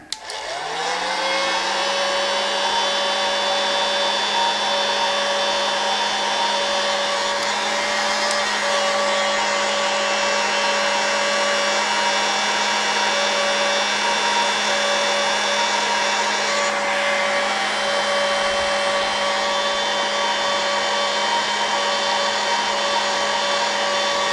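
Steady loud motorized whir of a heat gun shrinking heat shrink tubing over soldered motor wires, with a constant hum and whine running unbroken throughout.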